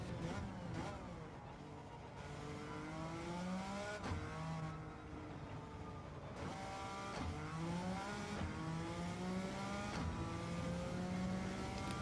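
A race car engine in Gran Turismo 7 revs hard through a time trial lap, climbing repeatedly through the gears with sharp drops at each shift and a loud, continuous whine, no voices.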